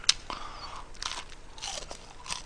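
Close, crisp crunching as someone bites into a homemade fried chicken wing, followed by several wet chewing crunches at an uneven pace.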